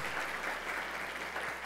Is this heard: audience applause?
yes